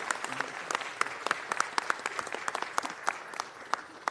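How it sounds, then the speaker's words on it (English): A round of applause at a city council meeting: scattered, fairly sparse clapping from a modest crowd, distinct individual claps in an uneven rhythm, moderately distant. "So please give them a round of applause as well."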